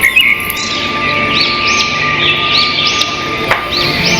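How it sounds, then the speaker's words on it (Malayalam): Birds sing in trees at a lakeside campsite at Love Lake in Dubai, with repeated bright chirps and sweeping calls rising close by over a quiet outdoor background, plus a steady faint tone. "ഇതിൽ നിന്നാണ് നമ്മൾ ഈ കിളികളെ ശബ്ദങ്ങളൊക്കെ ഇങ്ങനെ കേട്ടുകൊണ്ടുണ്ടായിരുന്നത്."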